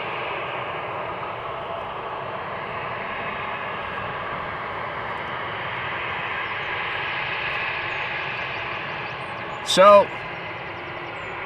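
A Boeing 747 at Amsterdam Schiphol Airport gives a steady, distant jet-engine roar that runs throughout, with someone speaking briefly near the end.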